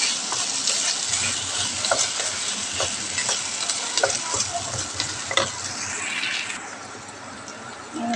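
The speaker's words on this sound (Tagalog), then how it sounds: "nilagay ko na yung kaunting karning baka. Tapos, konting fry lang ito kasi ayaw nila yung masyadong luto." Small pieces of seasoned beef sizzle steadily in a pan, a loud continuous frying hiss with occasional stirring scrapes and clinks, no talking.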